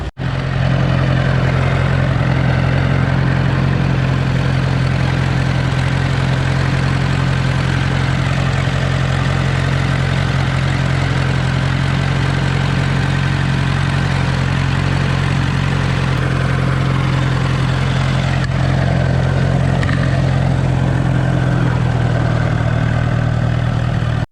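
An old tractor engine idles steadily and loudly nearby, a continuous low rumble that holds even throughout.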